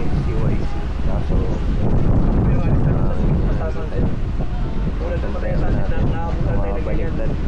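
Strong typhoon wind buffets a boat near Coron, a loud, steady roaring rush with gusty swells throughout, mixed with water noise and muffled voices underneath.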